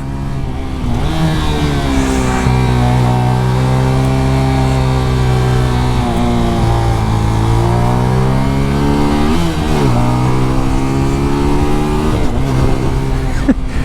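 A MITT GP 125 motorcycle engine runs loud and close through a lap, revving up and down through gears with rising and falling pitch and brief dips at shifts.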